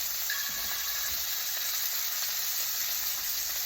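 Steak pan frying, a dense, constant sizzle that stays loud and even throughout, with no voices over it.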